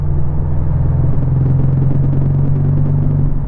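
A Porsche 718 Cayman GTS with an aftermarket Supercup exhaust at light throttle, a loud, steady low drone and rumble from inside the car with no pauses.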